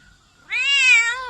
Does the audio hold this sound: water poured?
no